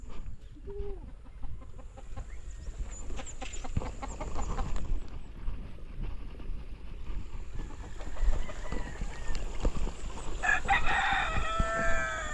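Pet roosters crow in a rural garden, with one long crow near the start and a louder, fuller crow toward the end, over steady outdoor background noise.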